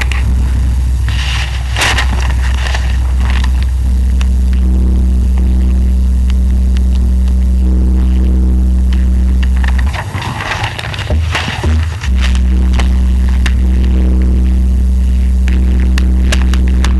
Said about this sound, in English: The level of this tone is about 50 dBA